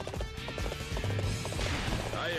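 Horse hooves in Dynasty Warriors 8, a quick run of clip-clop beats under busy battle sounds and game noise, brief and somewhat masked.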